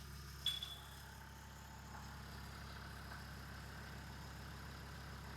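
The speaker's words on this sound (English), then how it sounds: "Just gonna let that idle for about 30 seconds." A Land Rover Discovery 2 with the TD5 diesel engine idles steadily after an oil service, a constant low rumble with a faint click near the start.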